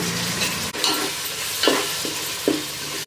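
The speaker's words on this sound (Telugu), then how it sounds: "రెండు టమాటాలను సన్నగా కట్ చేసుకొని వేసుకుంటున్నాను" Finely chopped tomatoes, two of them, hit hot masala in a pan for soya keema biryani, with a steady close sizzle and several distinct scraping stirs of a spoon against the pan.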